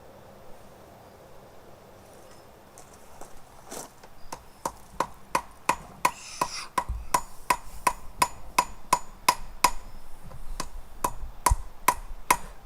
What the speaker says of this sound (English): That's why I gave him this 1 pound hammer instead of his 2 pounder.